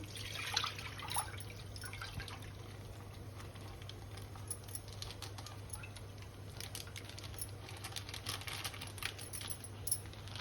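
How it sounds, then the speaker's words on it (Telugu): Milk is poured into a pan on a stove for palakova, a faint, steady liquid trickle with light dripping and small clinks, quiet and close, with no one speaking. "ఈ మిల్క్ అంతా పోసేయాలి."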